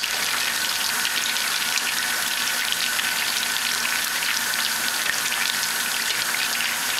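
Crispy chicken wings deep-fry in hot oil with a loud, continuous sizzle and dense crackling pops, steady for several seconds with no talking.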